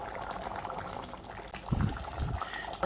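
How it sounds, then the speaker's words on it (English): Water from a can pouring into a cooking pot in a home kitchen, a soft continuous splashing and gurgling that swells briefly near the end, faint and close with no talking. "I pour it into the pot"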